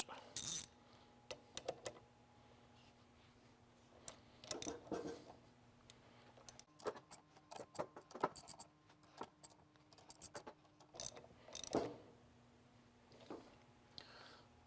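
A ratchet snugs up the bolts on a P200 pump diaphragm in a cross pattern, with bursts of quick clicking separated by short pauses, close by and fairly quiet.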